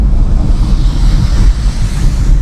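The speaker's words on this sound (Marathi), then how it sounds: "बघा किती सुंदर धबधबा आहे" Loud, continuous rushing roar of a monsoon waterfall in the Sahyadri hills near Poladpur, Konkan, steady and close with a deep rumbling low end.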